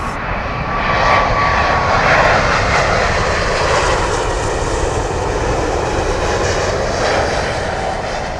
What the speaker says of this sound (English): just with another 777 arriving from British Airways